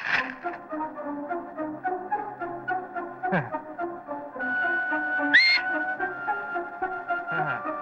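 Whistling rings out in a Tamil film scene, a clear, fairly soft tune of sustained notes with a few sharp pitch jumps carrying on for several seconds.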